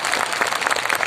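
An audience bursts into applause, a short dense spell of many hands clapping at steady loudness from start to finish.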